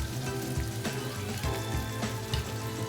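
Butter sizzles in a frying pan at medium-low heat while halibut is being cooked: a steady, close crackle and hiss with small pops and a low hum underneath, no voices.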